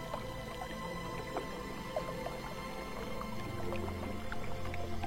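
A small stream trickles and gurgles over stones, a steady close babble of water with scattered drips and splashes, alone without voices.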